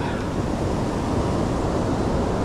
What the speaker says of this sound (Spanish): Vamos a probar en estos lados, que está hermoso la playa